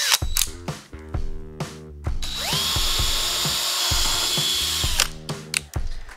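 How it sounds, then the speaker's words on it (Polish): A Parkside PBSA 20-Li A1 cordless drill bores a hole in wood using a metal bit, heard up close as short whirring bursts and a longer sustained high-pitched run, with clicks and handling knocks between, and no talking. "Dziura wywiercona."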